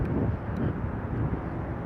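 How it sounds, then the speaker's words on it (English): Low, rumbling wind buffets the microphone continuously, a dense muffled roar with no voices. "I'm getting wind right out my face."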